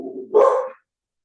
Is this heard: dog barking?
yes